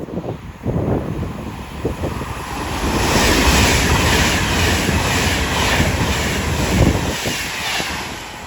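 A train passes at Watford Junction on the West Coast Main Line, bound for Manchester from London Euston, a broad rumbling roar with rhythmic wheel clatter that swells and holds steady before easing slightly.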